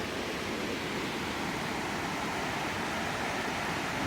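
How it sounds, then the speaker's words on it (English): Swatara Creek flowing out of Sweet Arrow Lake below the falls, a steady broadband rush of moving water that holds even and continuous throughout with no voices. "This is Swatara Creek."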